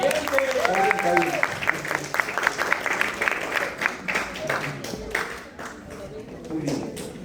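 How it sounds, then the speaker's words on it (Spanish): An audience at an epidemiology lecture claps in a steady round of applause lasting several seconds, with voices talking over it. "Un aplauso para el hombre."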